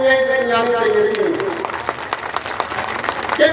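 A crowd at a Ravana fair in Kanpur breaks into scattered then steady clapping after a speech, rising as a voice fades out, with the applause carrying on fairly close and lively.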